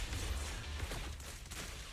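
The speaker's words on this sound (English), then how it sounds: "Oh my god, I shot through the pillar." Gunfire in the video game Zenless Zone Zero, with penetration bullets shot through a pillar: a dense, low rumbling volley of shots running throughout, fairly quiet and muffled.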